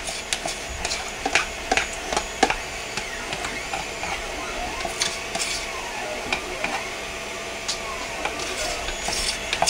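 Thickened, warmed pine tar soap mixture is scraped out of a container, giving close, repeated scratchy rasps and ticks in an irregular rhythm over a steady background hiss.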